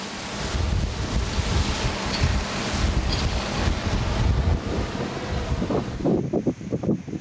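Storm-surge waves and gusty wind during a once-in-a-century flood in Flensburg, with water 2.27 metres above mean level: continuous roaring surf and buffeting wind noise on the microphone, loud and unbroken, with no voices.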